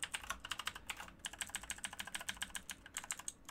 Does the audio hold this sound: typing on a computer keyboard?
yes